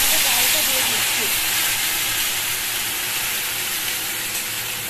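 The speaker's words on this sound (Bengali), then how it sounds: "দেখো ফোড়নটা হয়ে গেছে, গন্ধ বেরিয়ে গেছে ভালো। এবার আমি এখানে ডালটা দিয়ে দিচ্ছি।" Mung dal tipped into hot oil tempering in a home kitchen gives a loud, steady hiss of sizzling that runs close and continuous for the whole stretch, easing slightly toward the end.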